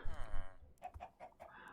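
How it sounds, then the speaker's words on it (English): Minecraft chickens cluck around an enchanting tower in a village, giving several short, soft clucks in quick succession, faint and close together. "the host of chickens living around the enchanting tower"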